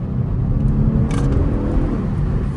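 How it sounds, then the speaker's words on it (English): A Genesis G70 V6 rumbles with a deep, close engine note that swells briefly, a short throaty rev over a steady low drone. "She got a little bark for a V6."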